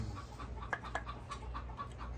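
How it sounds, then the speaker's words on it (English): Chickens cluck and squawk in short bursts amid a low background rumble, the calls close but fairly quiet. "I can't hardly think out here with these chickens steady screaming."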